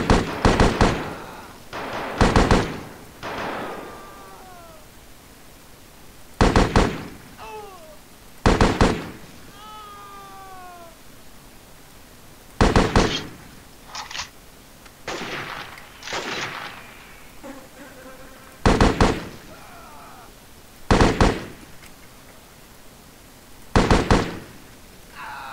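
Gunshots in the video game Delta Force Land Warrior, loud single cracks fired one at a time at irregular intervals with gaps between, some followed by short echoing tails.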